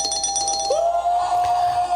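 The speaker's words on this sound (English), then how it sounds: "turn that bell notification on, give it a ding" A single bright notification bell ding rings out clearly, its tone sustaining steadily before fading, loud and alone.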